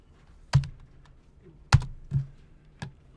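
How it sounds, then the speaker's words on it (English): Computer keyboard typing up close, a handful of sparse, distinct key clicks spaced irregularly with quiet gaps between them, no talking. "after it I type in /JavaScript"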